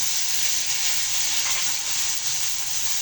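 Tomatoes sizzle and hiss steadily in a hot pan while being sautéed for a spicy Chettinad fish kulambu, a loud, even frying sound close by with no talk.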